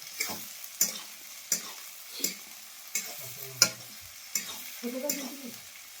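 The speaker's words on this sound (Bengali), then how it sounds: "দাও টমেটো সস দাও, একটু নেড়ে নিই ভালো করে।" Chili chicken with capsicum and tomato sauce is stirred in a pan, with about seven spaced, sharp scraping strokes over a faint sizzle and quiet surroundings.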